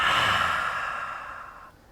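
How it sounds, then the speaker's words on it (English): A lion's breath yoga exhale: a long, loud, breathy push of air out through the open mouth with the tongue out, close up, fading away over about two seconds. "3 lion's breaths, deep in the nose, out the mouth, tongue sticking out."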